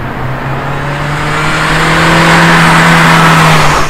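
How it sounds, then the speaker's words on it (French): A Renault Megane 2 CC 2.0 Turbo engine accelerates loudly, its droning pitch climbing steadily for several seconds before cutting off abruptly. "son moteur permet des bonnes accélérations."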